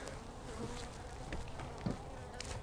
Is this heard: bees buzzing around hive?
yes